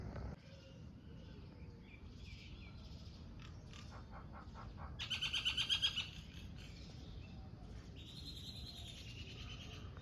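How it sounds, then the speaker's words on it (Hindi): Outdoor early-morning birdsong: several birds chirp and trill at a distance, with a louder run of rapid repeated calls partway through, over a faint steady background. "कितनी प्यारी प्यारी आवाज़ें आ रही है पक्षियों की।"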